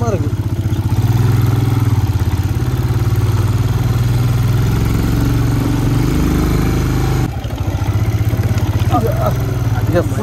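A motorcycle engine thrums steadily and loudly up close while riding over the rough, rocky road at Hampta Pass, its low pulse continuous throughout, with a brief dip near the end and faint wind noise.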